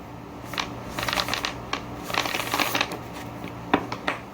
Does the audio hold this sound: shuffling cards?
yes